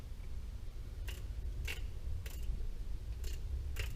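A torque wrench for Ford F150 bolts being set, with five sharp metallic ratcheting clicks at roughly even intervals over a steady low hum, close and fairly quiet.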